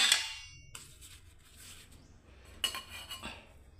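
Steel plates and cutlery clink and clatter while vegetable paratha is served, with a sharp ringing clang at the start, then several lighter taps and chinks close by.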